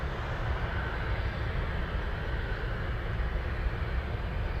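A Twin Otter turboprop at Anchorage airport gives a steady, broad engine roar with a deep low rumble, holding an even level throughout without any voices.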